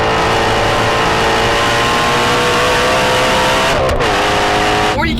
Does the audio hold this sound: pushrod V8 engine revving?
yes